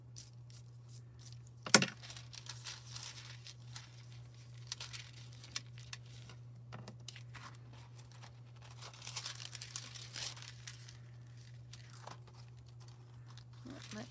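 Crinkly Star mink foil sheets from Heidi Swap handled up close, with soft scattered crinkles and rustles, one sharp crackle near the start and a few brief crunchy bursts, over a steady low hum.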